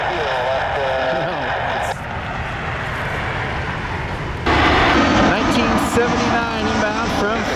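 An American Airlines A319 jet airliner in Allegheny retro livery rumbles and roars on final approach to runway 24 right, its engine noise swelling louder midway, while radio and voice chatter run over it.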